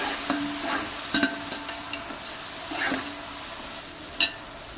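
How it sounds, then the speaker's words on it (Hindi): Garlic, ginger and green chili paste being mixed into frying rice masala, a spoon scraping and knocking against the pot in irregular strokes over a low sizzle, close by with no talk. "साथ हम डाल देंगे लहसुन, अदरक और सब्ज़ मिर्च का पेस्ट। इसे कर लेंगे अच्छे से मिक्स।"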